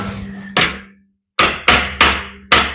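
Sharp hammer blows shaping the bottom corners of a 1941 Ford 2-ton supercab steel body panel in a home garage: a single strike, a pause, then four ringing metallic hits in quick succession.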